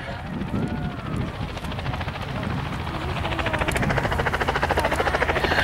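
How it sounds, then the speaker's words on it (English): A WWII-era advanced trainer airplane performs a crisp aileron roll during an air show, its propeller engine droning loudly and steadily with a pulsing throb that grows toward the end. "Rolls that airplane around in a nice crisp aileron roll as he goes off of air show right"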